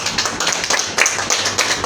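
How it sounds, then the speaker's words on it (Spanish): A small audience at a Peruvian labor law session claps briefly, with sparse, distinct hand claps in an uneven rhythm. "a quien le vamos a recibir con fuertes palmas"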